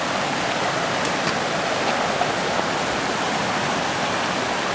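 A creek rushes in a steady, broadband wash of flowing water in the central Oregon outdoors, constant and fairly close, with no voices.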